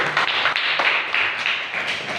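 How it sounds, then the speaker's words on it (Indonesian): Classroom applause for a student group: a steady, dense patter of many hands clapping together at close range, sustained evenly for about two seconds with no talk over it. "Beri tepuk tangan untuk kelompok 1"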